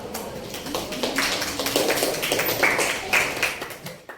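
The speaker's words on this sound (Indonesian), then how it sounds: "kasih tepuk tangan untuk kelompok 2" A classroom of students claps for a group about to present, uneven and moderately loud, with scattered individual claps and some voices mixed in.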